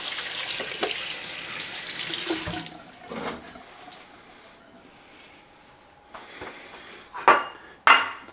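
A kitchen sink faucet runs as hands are washed, a steady hiss of water for nearly three seconds, then it shuts off, followed by scattered clinks and dish knocks at close range.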